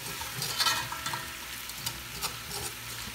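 Tomato paste fries in a pot for a Haitian chicken sauce, a steady close sizzle broken by a few sharper scraping stirs, with no talking.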